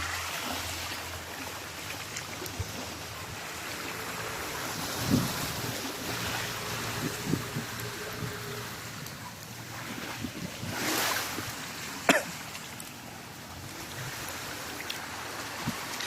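Waves wash steadily along a seaside shore, a continuous soft surf roar with wind buffeting the microphone and a few brief louder knocks, no voices.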